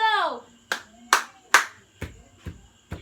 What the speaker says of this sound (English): So let's give them Janisha clap.